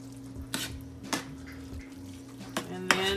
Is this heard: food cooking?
yes